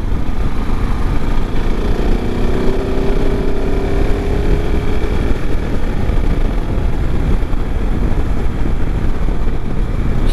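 A motorcycle is ridden on the road, its engine droning loud and steady under heavy wind buffeting for the whole stretch.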